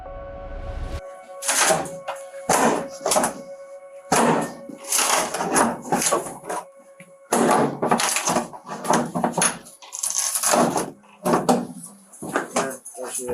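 Police bang repeatedly on a hotel bathroom door in irregular clusters of heavy knocks, loud and close, with voices calling out between and over the blows.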